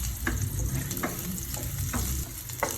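Ginger sizzles in hot oil in a pan for chicken tinola, a dense steady frying hiss punctuated by regular stirring taps roughly every second.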